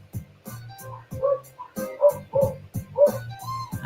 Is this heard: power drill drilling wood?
no